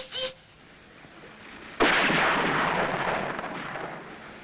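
A sudden, heavy blast bursts in and rolls out into a long rumbling roar that slowly fades, preceded by a brief faint tone.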